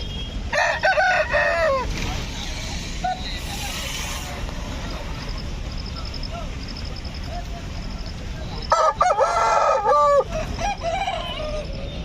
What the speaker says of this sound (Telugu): మనం వచ్చేసి అయితే కోళ్ళ మార్కెట్లో ఉన్నాం